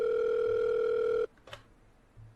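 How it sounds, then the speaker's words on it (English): Telephone tone in the horror game Five Nights at Wario's 3, a loud steady electronic ring that cuts off abruptly, followed by a brief click and quiet line noise. "Hey there, sorry for the late phone call."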